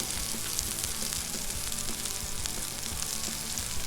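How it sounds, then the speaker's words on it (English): Shrimp frying on a Blackstone griddle give off a steady, loud, dense sizzle with crackling pops throughout, no voices over it. "we got some nice sizzling going on over here"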